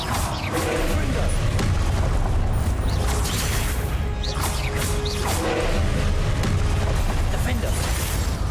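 A Confringo blasting spell from Hogwarts Legacy erupts in a dense, loud rumbling burst of explosive impact noise that fills the whole stretch amid layered game effects and combat clatter.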